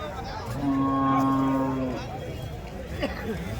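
A cow moos once with a long, deep, drawn-out call, close by, over murmuring voices at a cattle market in Chalisgaon, Maharashtra.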